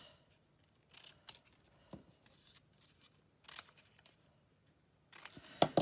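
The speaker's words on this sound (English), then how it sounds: "I'll just cut the length of it off. And I'll cut 4 sort of squares." Scissors cut craft material for Christmas embellishments in a series of close, crisp snips with short pauses between them and quiet handling rustles, no talking.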